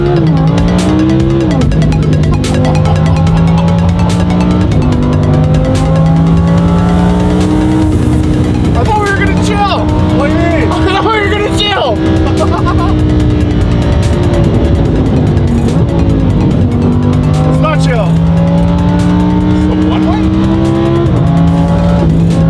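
A straight-piped barn find Ferrari cruises along, its loud, raspy exhaust rising and falling through repeated gear changes and revs, up close, with occasional voices over the engine.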